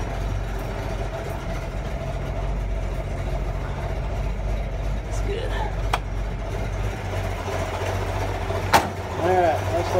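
A 1966 Mustang GT engine runs steadily while warming up after a rebuild, a low, even idle rumble throughout with a few brief metallic clicks, heard close by.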